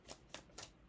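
Tarot cards are shuffled close up, with three quick, crisp riffling flicks within a second, quiet and with no voices.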